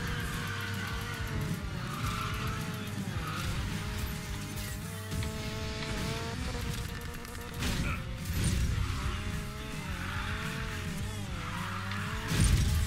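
Tires squeal steadily as a car drifts in Need for Speed Payback, a racing engine droning beneath the continuous skid with swells of revving and music throughout.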